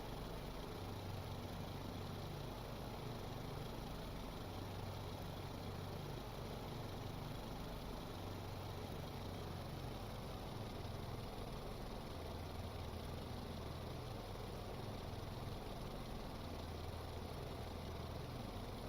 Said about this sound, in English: Yeah, engines sound a little bit different, I think.